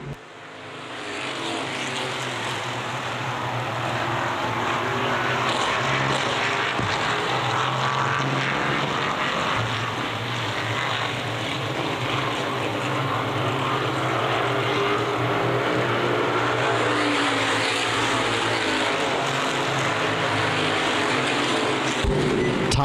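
Street stock race cars roar together around the oval at Winchester Speedway, a dense, sustained engine drone holding steady for the whole stretch with swelling passes and no break, loud and close.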